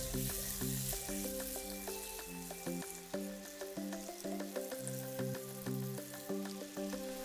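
Chopped tomato cooks in mustard oil with mustard paste, a soft sizzling hiss in the pan under repeated scraping and tapping of a spoon, with faint background music.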